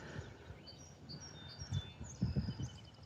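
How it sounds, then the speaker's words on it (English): Birds chirp and tweet quietly in the distance on a Sunday morning dog walk by a river bridge, thin scattered calls over faint outdoor background noise, with no talking. "Can you hear the birds?"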